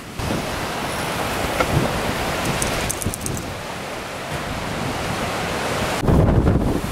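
Strong wind roars through a foggy sandstorm, buffeting the microphone with dense continuous rushing noise that surges louder in the last second.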